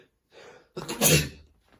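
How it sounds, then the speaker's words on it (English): A single loud sneeze, close up, preceded by a quick sharp inhale, then a faint breath afterward. "That's how I'm ending the video, with a sneeze."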